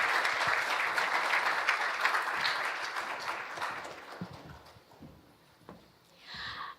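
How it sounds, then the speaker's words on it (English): A large audience at a Philippine economic briefing in San Francisco gives a warm round of applause for the President of the Philippines. The clapping is loud and sustained, then thins out and fades, leaving scattered faint sounds. "another warm round of applause for the President of the Philippines"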